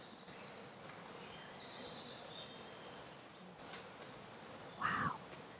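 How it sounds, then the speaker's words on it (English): Many birds sing and chirp in a Victorian cemetery in Falmouth, with overlapping bright calls throughout and one louder, closer call near the end over a soft outdoor background. "There's so many birds here."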